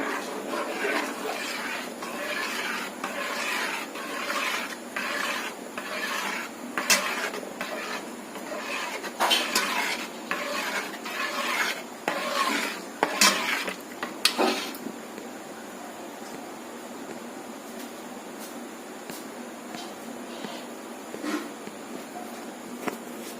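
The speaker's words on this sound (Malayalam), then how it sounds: "നന്നായിട്ട് ഇളക്കി കൊടുക്കുക" A spoon scrapes and stirs a thick halwa of flattened rice, coconut and melted jaggery in a pan, with repeated rhythmic scraping strokes for about fifteen seconds before fading to a quieter, steadier stirring.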